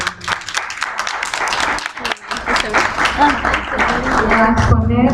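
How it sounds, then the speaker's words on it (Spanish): Loud audience applause greets a hospital physician at a medical presentation, brisk clapping from a hall crowd that carries throughout, with talk mixed in and continuing as it tapers. "el que pedimos un fuerte aplauso"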